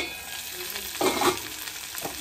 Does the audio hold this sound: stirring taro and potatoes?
yes